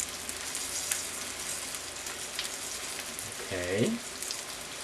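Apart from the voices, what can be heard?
chicken pieces frying in hot oil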